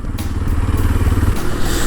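A Kawasaki KLX230 engine runs with a loud, close, rough thrum, wind buffeting over it for the two seconds with no voices.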